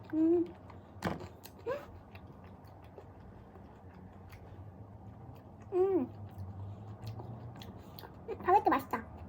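Close, soft chewing of baguette bread, a few moist bites and crunches scattered between quiet pauses, with faint background hum.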